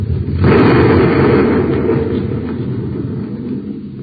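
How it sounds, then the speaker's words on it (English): A cartoon light neutralizer blows up in a big explosion, a sudden loud, deep roaring blast that swells within half a second, then rumbles on and slowly fades over several seconds. "there goes a perfectly good light neutralizer, blown to bits"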